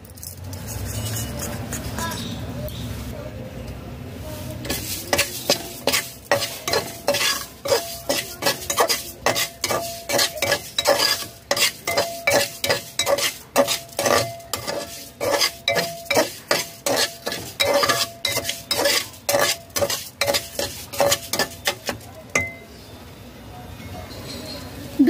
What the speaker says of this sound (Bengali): লো টু মিডিয়াম ফ্লেমে 2 মিনিট চাল ভেজে নিয়েছি, গোবিন্দভোগ চাল